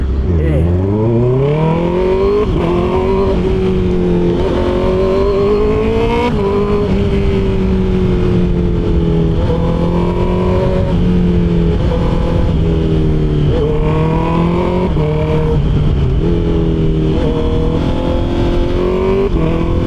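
A 2024 Honda CB650R with an IXIL full system exhaust revs up and down repeatedly, a loud throaty roar rising and falling in pitch, close by with no pauses.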